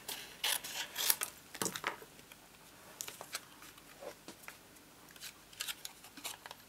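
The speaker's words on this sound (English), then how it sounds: "let me cut my flower off first" Scissors snipping a paper flower out of stamped cardstock, a steady series of short, crisp cuts and rustles close by, irregular in rhythm, with no talking.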